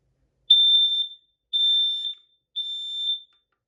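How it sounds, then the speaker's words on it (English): A Kidde PI9010 dual sensor smoke alarm sounds during a push-and-hold button test: three loud, piercing, high beeps, each about half a second to three-quarters of a second long, evenly spaced and close. "The test button on this is a simple push and hold to test, which I'll go ahead and demonstrate."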